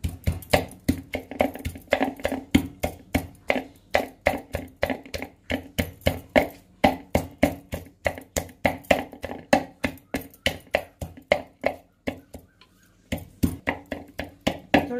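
Garlic, cumin and coriander are pounded coarsely in a kitchen, a steady run of close, sharp thuds repeating roughly three or four times a second with a brief pause near the end.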